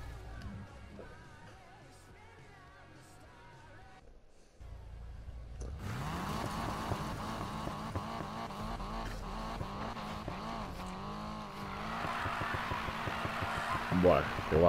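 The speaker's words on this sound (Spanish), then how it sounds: "el petardeo del tubo de escape mola muchísimo" A Nissan Silvia revs and races in Need for Speed Payback, its engine note rising and falling under the player's voice, with crackling exhaust pops and tire noise building toward the end after a brief quiet gap.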